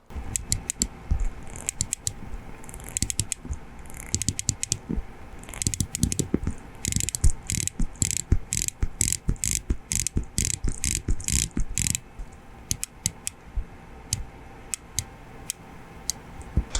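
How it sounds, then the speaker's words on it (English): Unidirectional bezel on a Seiko SPB187 dive watch being turned: crisp, close ratcheting clicks in quick runs and bursts, then slower single clicks with short gaps, no voices. "The bezel turns unidirectionally like a proper dive watch, and I'm really wondering though, how does it sound? Let's give it a click test."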